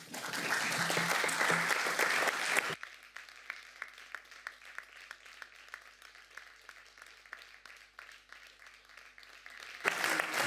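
Strasbourg city council members break into applause in the chamber, a brief burst of clapping that stops abruptly and gives way to a quiet room with scattered knocks and shuffles, then a short swell of clapping returns at the end.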